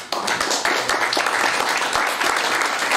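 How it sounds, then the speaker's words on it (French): Audience applause at a French institutional round-table conference, dense steady clapping from a seated crowd welcoming a panelist, with sharp individual claps standing out through the three seconds. "que je vous invite à accueillir sous vos applaudissements"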